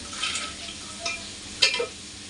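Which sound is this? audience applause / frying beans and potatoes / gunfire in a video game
frying beans and potatoes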